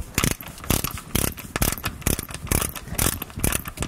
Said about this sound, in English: So we've got a torque wrench. Spin it all the way up.